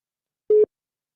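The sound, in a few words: telephone ringing tone on an outgoing call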